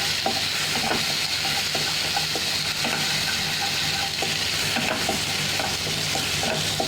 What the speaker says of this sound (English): once the oil is heated properly, I'm going to add this garlic and chili paste. And we're going to stir it nicely.